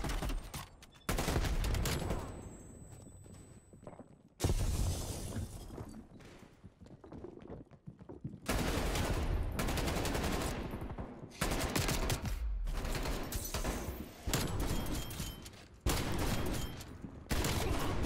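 Pistol fire in the video game Call of Duty Cold War: loud, rapid bursts of gunshots repeat through the stretch, broken by short pauses and mixed with in-game explosions and clatter.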